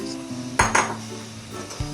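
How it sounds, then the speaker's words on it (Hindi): Cooked white beans (lobia) being moved from a pan into another pot in a home kitchen, with a couple of close metallic clanks of utensil on cookware standing out over a low background hum. "अब मैं इनको निकाल दूंगी इस पैन से, इस बर्तन में डाल दूंगी।"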